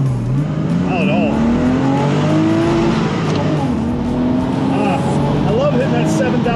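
A Porsche 986 Boxster engine revs hard while accelerating on a twisty road, its pitch climbing through gear changes, loud and close, with a person talking over it.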